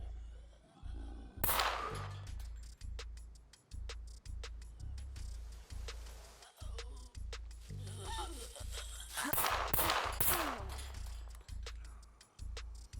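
Gunfire from a weapon with an integrated suppressor in the survival game SCUM: a rapid, regular train of loud, punchy shots with heavy rumbling bursts in between, and a voice talking briefly.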